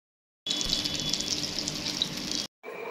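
Spiced food fries in a pan with a steady, hissing sizzle that runs for about two seconds, cuts off, then briefly resumes.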